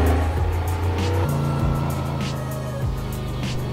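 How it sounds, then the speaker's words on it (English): A Brabus GT900 supercar in a Roblox driving game revs and drops through several downshifts, its engine note falling in steps with crackles popping between gears. It plays loud and close with no talk over it. "Just listen to this. All the downshifts and the crackles."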